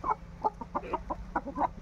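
A Kakira-breed fighting rooster clucks in a string of short, choppy bursts, about ten in under two seconds, fairly close against a low steady hum, with no talking.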